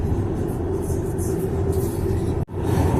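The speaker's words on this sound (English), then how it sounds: "You just get a little bit of road noise." Low, steady road rumble fills the cabin of a moving taxi car, a quiet ride with a constant hum and faint tire noise, briefly cut by a short dropout near the end.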